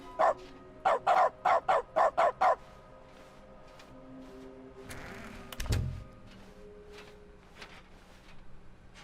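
A dog barks in a quick series of about seven loud, evenly spaced barks near the start, followed by quieter game sounds and a brief thud, with no talking.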